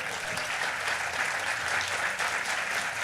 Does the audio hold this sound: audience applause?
yes